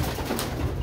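Pigeons shut inside their nest boxes coo softly in a low, continuous murmur that lasts under a second, heard alone at close range.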